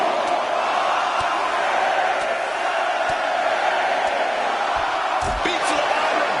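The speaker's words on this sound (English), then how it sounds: "This capacity crowd is enraptured with every move these superstars make" An arena crowd at a WWE 2K26 wrestling match cheers in a steady roar throughout, with scattered slams and thuds breaking through and a commentator talking over the noise.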